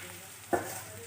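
Egg curry frying in a pan, a soft steady sizzle with a single sharp stir or scrape near the middle, heard close and fairly quiet.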